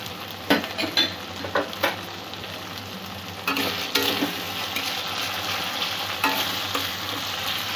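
Onions sautéing in a pan for a rohu fish curry with salt and turmeric, a steady close frying sizzle with several sharp scrapes and clinks of a spatula stirring against the pan.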